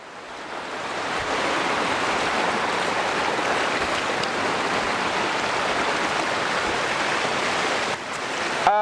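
Rushing mountain stream at the headwaters of the Saluopa waterfall, a steady broadband roar of water running the whole time, close and loud, alone without voices.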